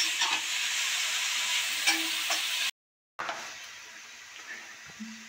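Grated beetroot frying in a pan for beetroot halwa, a steady bright sizzle and hiss with faint stirring clicks, close and continuous, cut by a brief silent gap midway.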